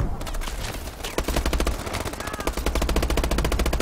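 Rapid machine-gun fire from the video game Call of Duty Advanced Warfare rattles in dense, loud, continuous bursts that barely break, with a brief voice in the background.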